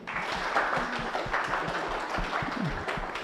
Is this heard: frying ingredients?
no